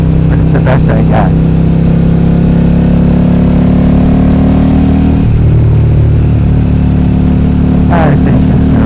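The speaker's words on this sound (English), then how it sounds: "This engine sounds so nice." A 2011 KTM RC8R motorcycle fitted with an Akrapovic full race exhaust, idling with a loud, steady, deep engine drone close to the microphone, its pitch shifting slightly midway, with brief faint noises near the start and end.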